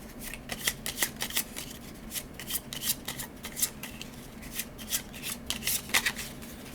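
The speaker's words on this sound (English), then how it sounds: "Harvest requires me to shuffle." Playing cards for the Legacy of Yu board game being shuffled close by, a quick run of crisp riffling bursts and soft slides repeating over several seconds with no talking.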